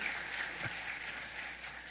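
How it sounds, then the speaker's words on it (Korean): A church congregation claps together during a special dawn prayer service, a brief spell of quiet applause heard from a distance with no speech. "박수 한번"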